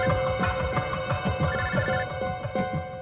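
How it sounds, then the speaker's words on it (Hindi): A telephone rings steadily in repeated bursts of bright electronic trilling, loud and close with no voices, in a tense night-time police drama scene. "शिव साहब का फोन"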